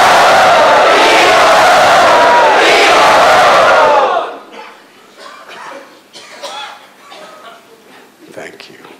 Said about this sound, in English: Let us very enthusiastically welcome them by chanting Hari.